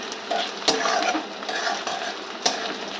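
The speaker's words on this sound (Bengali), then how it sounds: "ভালো করে ভেজে নিলাম, এবার এই টমেটোটা দিয়ে দিলাম এর মধ্যে।" Grated ginger and tomato fry in a pan, giving a soft sizzle under repeated clinks and scrapes of a utensil stirring against the metal, close and fairly quiet.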